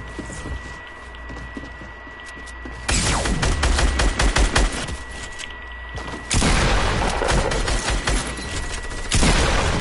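Dense bursts of rapid gunfire and booming shots from the Fortnite video game hit loud and close in three separate volleys, with quieter stretches between them.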